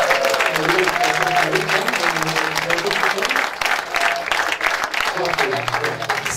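Audience applauding at a celebration of sixty years of Moluccans in Cuijk, dense sustained clapping from a crowd with voices and tonal sounds mixed underneath.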